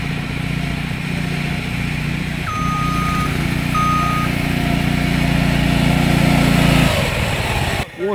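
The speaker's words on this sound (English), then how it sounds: "The basis around this event is for the vehicle to pull an off-terrain vehicle while driving on all different sorts of ground" An off-road Baja vehicle in a traction-pull event drags another vehicle across rough ground of rocks and stones, its engine droning loud and steady with a reversing beep heard partway through, then cutting off near the end.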